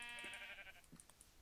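Minecraft sheep give two short bleats, close and clear, with a faint high chime between them and no speech.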